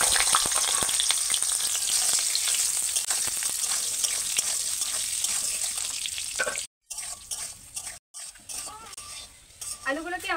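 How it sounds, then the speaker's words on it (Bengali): Potato pieces fry in well-heated oil for a Bengali prawn and jackfruit dish, giving a loud, dense, steady sizzle with occasional utensil clinks, broken by two brief dropouts near the end. "এবার আমি আলুগুলো ভেজে নেব।"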